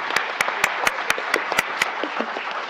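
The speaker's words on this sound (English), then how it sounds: "let's give her a round of applause" Sparse, sharp claps from a small audience at an evening health talk, welcoming a Q&A panelist; about eight evenly spaced distinct claps over a soft background hum, fading out near the end.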